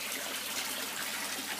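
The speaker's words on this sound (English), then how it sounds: "the valve down here on the spray bar is actually controlling the flow of water" Water pours from a valve-controlled spray bar out of a pond into a barrel, making a steady, hissing splash that stays even and close throughout, with no voices.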